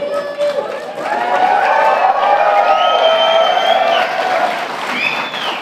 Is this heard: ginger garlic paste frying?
no